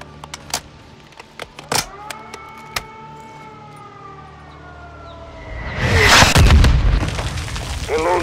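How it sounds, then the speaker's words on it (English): Mortar fire in Call of Duty Modern Warfare II: scattered sharp impacts and a rising whistling tone build into a loud, rumbling explosion close by, followed by a lingering low roar. "They're launching mortars."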